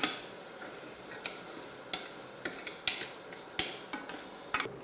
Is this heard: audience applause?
no